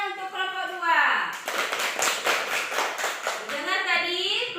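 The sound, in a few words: class clapping for group 2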